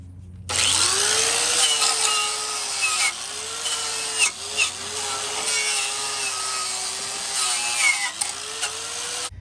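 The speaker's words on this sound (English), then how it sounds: "I'm going to do is take a wire wheel, and I'm just going to clean up to these surfaces" A power tool with a wire wheel spins up and scours the body mount surfaces of a 1996 Ford F350 7.3 Powerstroke truck frame, making a loud, harsh grinding whir that dips in pitch under pressure several times.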